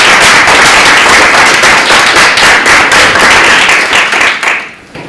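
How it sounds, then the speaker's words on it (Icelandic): Loud, dense applause from a seated audience welcoming panel guests at a political debate on milk taxation, steady clapping throughout that thins out near the end. "Gefið þeim gott klapp."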